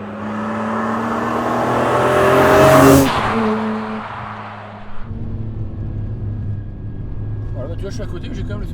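BMW M3 E46 six-cylinder engine running steadily while driving, a loud sustained drone that swells toward a peak near three seconds, drops briefly, then settles into a lower steady hum, with people talking over it.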